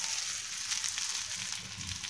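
Tadka tempering sizzles in hot ghee while sabudana khichdi is being made. It is a steady, close, continuous frying hiss with small crackles and no voices.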